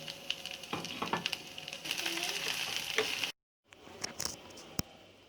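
Oil sizzles and crackles steadily in a pan as a spice and curry-leaf tempering for mutton dal gosht fries, with occasional stirring and clinking, close by; a brief silence interrupts before the sizzling resumes.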